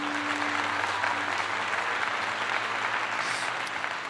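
Applause from a crowd, a continuous wash of clapping at moderate level with a low steady hum running underneath.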